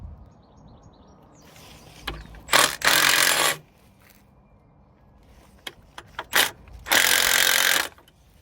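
Socket wrench ratcheting in a 2017 Ford Transit engine bay with a blown head gasket: two loud bursts of rapid clicking, each about a second long, close up with quiet pauses between and no talking.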